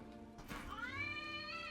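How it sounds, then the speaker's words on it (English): A cartoon cat character made of ice cream meows once, a rising, drawn-out call heard clearly over a steady background hum in an animated Teenage Mutant Ninja Turtles episode. "Ice Cream Kitty!"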